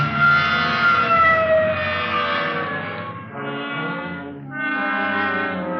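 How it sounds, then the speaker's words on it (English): A police car siren wails loudly in long sustained tones that dip and rise again, close by and unbroken by talk, in a 1950 radio drama. "hit the siren"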